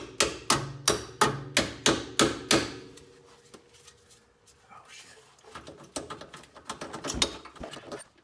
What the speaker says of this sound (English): Let's hit that pin.